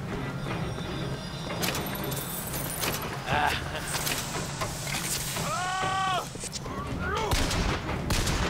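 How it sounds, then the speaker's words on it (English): Gunfire in the video game Bioshock Infinite crackles as sharp cracks and bursts scattered through busy game noise, moderately loud, with someone talking over it. "Shooting at me though."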